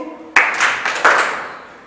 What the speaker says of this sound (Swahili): natumai tuweze kumpongeza kwa makofi